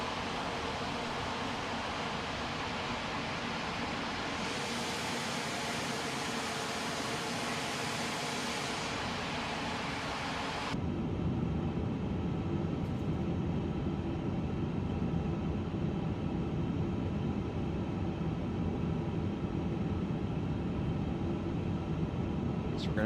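An Airbus A350 airliner in Japan Airlines livery taxiing in a flight simulator: a steady broad engine roar and hiss throughout, which drops to a lower, duller rumble partway through.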